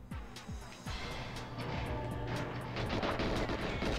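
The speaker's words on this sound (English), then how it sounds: "That took a little too long to explode, don't you think?" A bomb bursts in the Nintendo 64 game Goldeneye 007, a muffled boom that swells into a sustained roaring rumble lasting several seconds.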